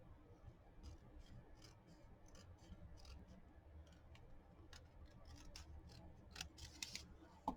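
Scissors snip paper in quick, repeated crisp cuts, faint and close, as a piece is trimmed for gluing onto an altered envelope, with no talking.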